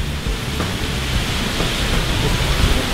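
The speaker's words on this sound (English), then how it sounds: "We are here in a torrential downpour." A heavy downpour hisses steadily and loudly, a dense continuous wash of rain with a low rumble underneath.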